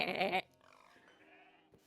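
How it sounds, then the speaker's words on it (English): A goat bleats loudly in one short, wavering cry, followed by quieter background noise, heard during an online tabletop game session. "The goats are coming in much clearer than you."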